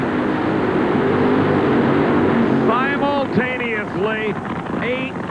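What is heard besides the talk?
NHRA drag racing cars launching off the starting line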